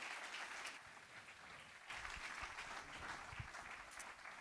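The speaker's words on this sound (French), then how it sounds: "On vous applaudit très fort." Audience applause at an award ceremony in Ariège, a steady broad wash of clapping that swells after about two seconds and keeps going at moderate, fairly distant level.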